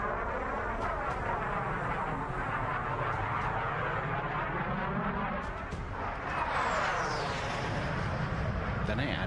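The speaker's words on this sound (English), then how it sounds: "here's the jet sounds on their own." Jet flybys recorded at the London Air Show, a loud sustained roar that swells and sweeps in pitch as aircraft pass, with a sharper whooshing pass late on and no talking.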